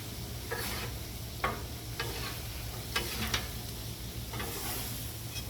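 Shrimp sizzle steadily on a Blackstone griddle turned up to high heat, a close, continuous frying hiss broken by occasional scraping and stirring clicks, with no talking.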